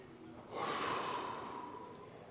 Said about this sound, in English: 3 deep breaths into the belly as you're exhaling